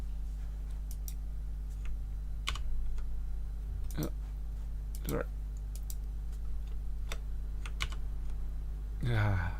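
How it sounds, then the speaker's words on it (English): Someone types on a computer keyboard in a lecture setting, with sparse, uneven keystrokes clicking over a steady low hum, followed by a voice speaking at the very end. "I keep typing the wrong sequence"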